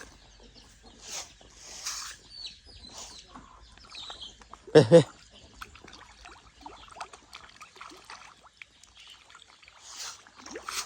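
Ducks feeding on snails around a drained canal let out scattered quacks and calls, near and fairly clear, with water trickling and a voice speaking in between.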